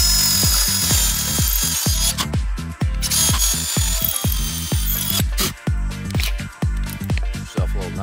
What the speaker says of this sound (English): drill a hole, measure, secure it